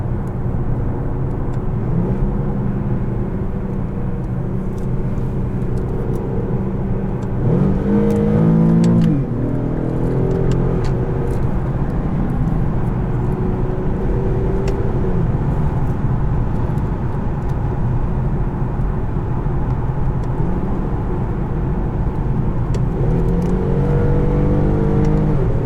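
A 2017 Infiniti Q70S engine accelerating in manual mode, heard from inside the cabin as a steady loud drone with audible gear changes and rising revs around the middle and near the end.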